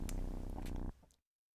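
A sister's cat purring in a recorded sound-effect sample, a dense low rumbling purr held steady for most of a second before cutting off into near silence.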